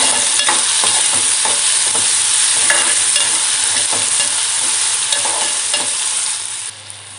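Dried shrimp masala with tomato is stirred in a hot pan, a loud, close, continuous sizzle with repeated scraping strokes of the spoon, fading slightly at the end, with no voices.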